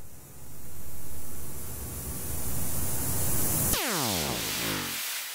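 A synthetic white noise drop effect for techno: a loud, sustained hiss that abruptly drops into a sweeping downward tonal swoosh and fades out, with no voices.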